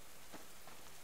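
Steady rain falling in the survival video game Subsistence, a dense, even hiss pattering on surfaces throughout with a couple of slightly brighter drips, quiet and continuous with no voices.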